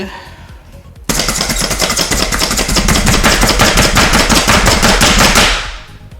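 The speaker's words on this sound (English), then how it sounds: "hopefully this thing should chop up the onions pretty well" An electric food chopper runs on onions, starting abruptly after a short pause and whirring with a loud, steady, rapidly pulsing chop for about four seconds before winding down.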